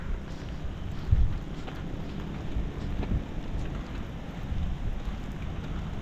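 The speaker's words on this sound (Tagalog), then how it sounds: "Medyo nabawasan yung ulan. Ambon-ambon na lang." Light drizzle falls at Camp John Hay in Baguio, a steady soft patter of rain with some wind rumble on the microphone, continuous and fairly faint throughout with no talking.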